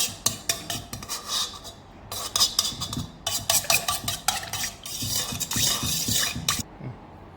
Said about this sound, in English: So now I mix the egg. I just break the yolk in here.